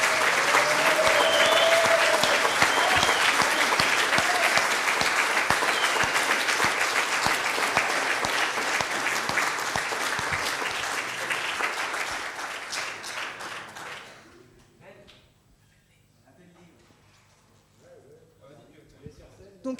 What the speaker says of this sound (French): J'aimerais faire une grande vague d'applaudissements.